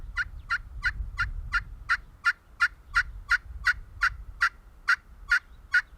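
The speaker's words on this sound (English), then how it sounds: "I see a lone turkey out in this food plot, and he's easing our way." A Rio Grande wild turkey calls from a food plot on a Texas ranch in the evening: about fourteen sharp, evenly spaced calls repeat at a steady rhythm, moderately distant, over a faint low rumble.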